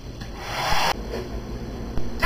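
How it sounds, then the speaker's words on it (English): A hair dryer blows air at a small ball toward the mouth of a bottle, a loud broadband whoosh that surges for about a second, drops back, then flares again briefly near the end. "the hairdryer is forcing air into the bottle,"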